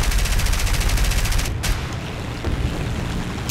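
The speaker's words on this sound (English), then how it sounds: "I hear some fire behind me, but I am not seeing any tracers going by me." Steady rapid machine-gun fire from aircraft guns in War Thunder, loud and continuous with a rattling pulse, easing slightly midway and then continuing as a dense roar.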